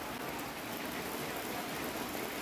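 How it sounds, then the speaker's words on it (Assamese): Steady rain falling in a village, a faint even hiss of drops with no breaks or voices. "বৰষুণ দি আছে"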